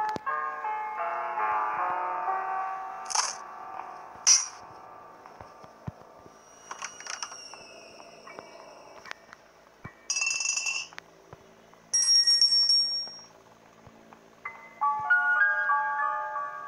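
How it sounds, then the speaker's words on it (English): A bell in the Granny horror video game rings in a few bright metallic chimes, separated by quieter clinks and soft game sounds, standing alone without talk. "we have a bell"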